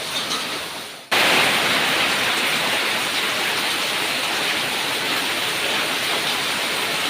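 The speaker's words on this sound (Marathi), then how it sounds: "निसर्गा त्याचा आशीर्वाद आपल्याला देतोय पावसाच्या रूपात" Rain suddenly begins pouring after a brief quieter moment, becoming a loud, steady, unbroken hiss of falling water.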